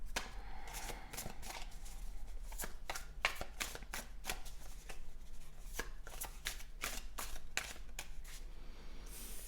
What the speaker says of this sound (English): I will take out your cards to look into this a little bit more.